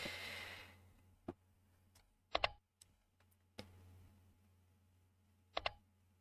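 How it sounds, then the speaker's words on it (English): A computer keyboard is typed on in sparse bursts, isolated clicks and short clustered keystrokes spaced by pauses over a faint background hum. "because he's typing"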